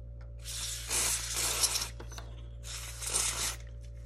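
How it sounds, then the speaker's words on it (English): Two close hissing bursts of contact cleaner spray, each lasting about a second, over a low steady hum, on a mixing console module. "just spray it down with contact cleaner."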